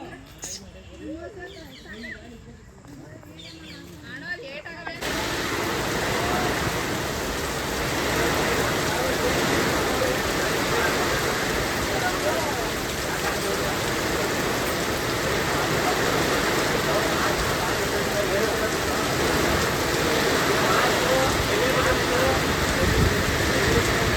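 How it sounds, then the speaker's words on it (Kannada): Steady, dense rainfall pours down after a brief quieter start, a constant loud wash of drops with faint background noise throughout. "ನೆನ್ನೆಯಿಂದ ಭಯಂಕರ ಹೋಯ್ತೈತೆ ಮಳೆ ಮಾತ್ರ"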